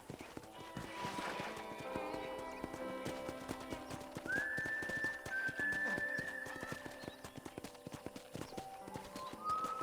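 Horse hooves clip-clopping on a ranch in the Red Dead Redemption video game, a fast, steady stream of clops with a horse's whinny and a thin whistling tone over them, and faint background voices.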